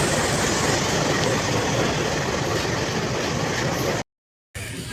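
A passenger train at Rangapara in Assam rumbles steadily along the rails with a loud, continuous roar, broken only by a short dropout near the end.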